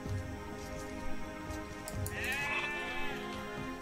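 Goats bleat in the video game Age of Empires, a wavering bleat near the middle over a busy, steady game soundscape, without speech.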